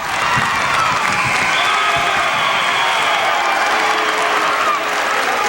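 Home fans at a high school district wrestling final cheer for Pat Byrne, a loud, sustained roar of shouting and whooping crowd noise mixed with clapping, steady throughout.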